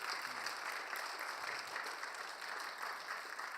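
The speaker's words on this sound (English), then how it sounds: "let's give him another round of applause" A Bible church congregation gives a round of applause after a testimony, dense continuous clapping from many people at an even, moderate level with no voices over it.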